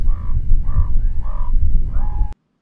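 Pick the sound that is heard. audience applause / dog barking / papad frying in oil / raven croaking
raven croaking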